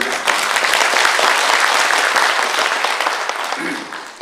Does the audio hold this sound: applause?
yes